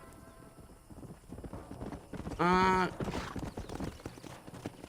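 A horse in the Red Dead Redemption game galloping in close with hoof clip-clop and a loud neigh in the middle, under game ambience and a brief voice.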